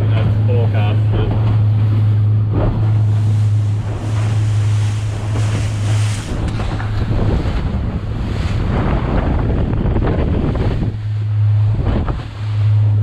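A boat runs home across a calm sea with a steady low engine drone, while wind buffets the microphone and waves and spray wash past the hull continuously.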